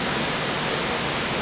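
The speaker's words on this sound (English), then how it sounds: "I'm standing pretty close to that waterfall and it is loud" A loud waterfall at Beaver Falls, heard from very close as a dense, steady roar of rushing water that fills the whole clip without a break.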